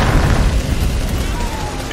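Grenade blast in the real-time strategy game Dawn of War 3, a loud continuous low rumble of explosions and battle noise that fills the whole stretch, with a voice likely mixed in.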